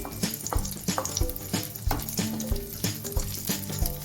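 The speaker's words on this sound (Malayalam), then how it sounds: "കാഷ്നട്ടും മുന്തിരിയും ഇട്ട് കൊടുക്കാം. ഇത് നമുക്ക് ചെറുതായിട്ടൊന്ന് ടോട്ട് ചെയ്ത് കൊടുക്കാം." Cashews and raisins frying in a pan for rava kesari: a steady close sizzle with a spoon repeatedly knocking and scraping the pan while stirring, and no voices.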